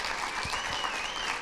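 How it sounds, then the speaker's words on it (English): An audience at a community event claps steadily throughout, a dense, even patter of many hands at moderate volume. A voice speaks faintly beneath it. "A massive round of applause for them for being here today."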